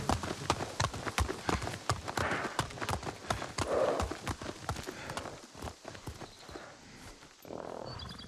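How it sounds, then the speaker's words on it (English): Rapid clip-clop of horse hooves running up stairs in the samurai video game Ghost of Tsushima, a quick, steady patter of many close hoof strikes that carries through the whole stretch with no talk. "I'd be a little concerned about how coordinated horses are running upstairs."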